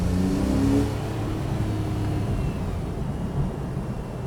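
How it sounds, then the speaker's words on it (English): A Porsche 997.2 Carrera 4S with four-wheel drive accelerates hard in second gear, its exhaust rising in a steady, rumbling drone heard from inside the moving car. "Now I'll put my foot down so we can hear the exhaust."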